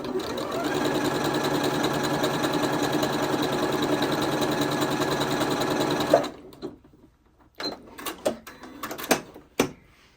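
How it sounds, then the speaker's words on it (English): A Janome Horizon Memory Craft 8200 QC sewing machine stitches steadily at close range for about six seconds with a dense, even whir, then stops and leaves scattered small clicks and handling knocks. "So I'll press this key and start sewing."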